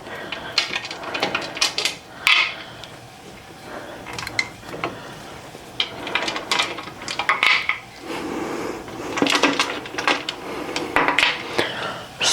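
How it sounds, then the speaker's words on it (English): Wing nuts being loosened on a metal pressure canner lid, a series of irregular metallic clanks, scrapes and knocks up close, with pauses between them and no talking. "Let's loosen the wing nuts."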